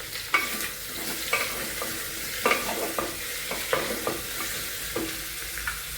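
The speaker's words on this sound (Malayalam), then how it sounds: "സവാള സ്ലൈസായിട്ട് അരിഞ്ഞു വെച്ചിട്ടുണ്ട്, അത് ചേർക്കാം." Sliced onions sizzle steadily in a hot pan, with regular scraping strokes of a spoon stirring through them, close and continuous.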